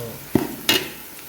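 Ash gourd with onion and chili being stirred in a pan during home cooking, two sharp scraping stir strokes over a faint background sizzle, close and fairly soft.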